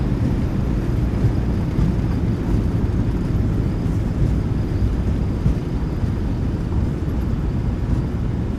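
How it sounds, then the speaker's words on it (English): Thrust reversers roar on a PMDG 737-800 landing in the MSFS2024 flight simulator game, a loud, steady, broadband rumble that holds evenly throughout without a break. "Goes down gently, reversers are out"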